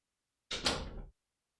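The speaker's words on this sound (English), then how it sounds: "Let me shut my door." A door swinging shut in a home: a short, soft whoosh of movement rises to a muffled thud and fades within about half a second, close by, with no voices.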